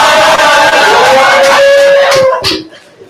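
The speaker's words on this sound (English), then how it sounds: "Can we clap for her, please?" A live studio audience claps for the winner at a Friday night hangout show, a dense, loud burst of applause and cheering with voices mixed in that fades out over the last second.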